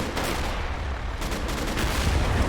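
Dense, rough bursts of gunfire from a video game battle crackle loudly and continuously in the foreground.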